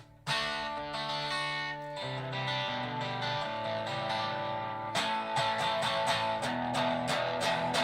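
Distorted electric guitar fitted with a Japanese Super Distortion pickup, playing sustained chords with a thick, driven tone that stays loud and steady throughout, with a fresh strum near the middle and no talking.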